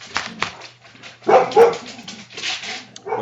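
Several house dogs bark in sharp bursts in the background of an indoor room, with a loud cluster of barks in the middle and quieter yips around it, with no talking.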